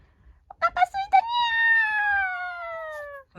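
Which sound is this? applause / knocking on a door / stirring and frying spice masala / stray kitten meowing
stray kitten meowing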